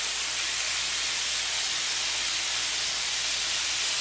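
Chicken adobo pieces searing in a hot pan, a continuous loud sizzling hiss with no pauses, close up and alone.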